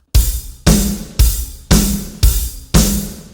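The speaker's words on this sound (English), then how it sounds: "if you add the kick drum with the snare, you get twice the sound when you hit the snare." Six evenly spaced loud drum hits, each a kick drum and snare struck together, combining a deep thump with a sharp snare crack and ringing decay, played alone.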